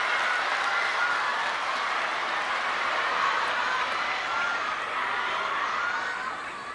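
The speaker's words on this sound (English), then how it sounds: "listen to this raucous crowd" Raucous crowd cheering and applauding at a table tennis World Cup semi-final, a dense, loud, steady roar of many voices and claps that holds throughout and fades slightly at the end.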